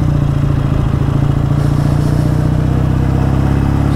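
A BSA A10 650 Super Rocket motorcycle engine runs steadily with a throbbing, slightly uneven mechanical note, close and loud throughout, with a held throttle and a carburettor being tweaked.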